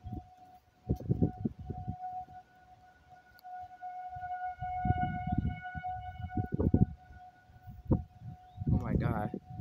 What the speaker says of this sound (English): The sirens are going off right now.